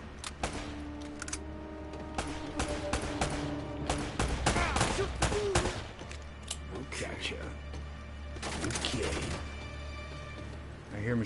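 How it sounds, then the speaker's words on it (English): Machine gun fire in the action game Uncharted: Drake's Fortune comes as dense, loud bursts of rapid automatic shots with sharp cracks and impacts, nearly continuous across the stretch, while excited voices talk over the gunfire. "Machine guns."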